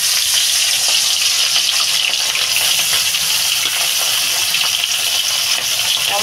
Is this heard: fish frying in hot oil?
yes